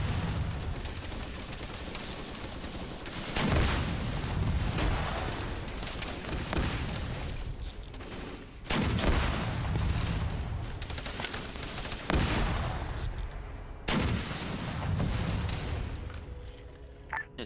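Anti-tank weapons fire in the Arma 3 video game, with several loud sharp launches and booming impacts spaced a few seconds apart over a continuous rumbling battle background.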